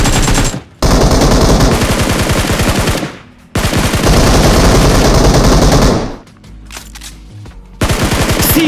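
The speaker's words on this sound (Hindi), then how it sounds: "अरे गोलियां सारी मार रहा हूं" Automatic gunfire in an online shooter game rattles off in long, rapid bursts, loud and close, separated by brief pauses and a short quieter gap before a final burst.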